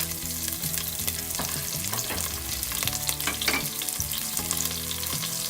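Green chilies and garlic frying with cumin seeds in hot oil for a potato and pea curry, a dense, continuous close sizzle and splutter with a few stirring scrapes.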